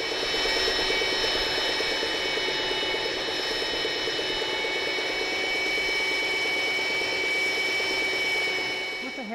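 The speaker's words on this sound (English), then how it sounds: "Now to clean up that rough sawn edge, I'll just take my belt sander and work around." Belt sander working along the rough sawn edge of a wooden back panel for an Art Deco curio shelf, a steady loud droning whine that holds evenly for about nine seconds before cutting off at the end.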